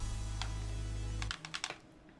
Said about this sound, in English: I keep hearing a tapping noise. Is that your keyboard or your controller? That is my controller.